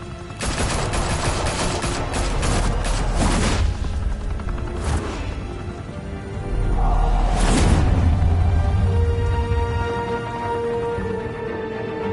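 Gunfire in a Batman game on PS4: loud bursts of rapid automatic fire and booming shots in close succession, a dense fusillade over a rumbling background, with no voices heard.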